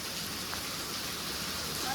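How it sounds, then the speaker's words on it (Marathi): Morning rain falls in a steady, soft hiss, fairly faint and uniform across the short stretch. "सकाळी सकाळी पाऊस पडतो"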